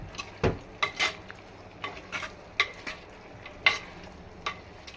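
Chicken curry stirred with chili powder in a pan, a spoon scraping and clinking in a few separate strokes over a soft sizzle, close and fairly quiet, with no voices.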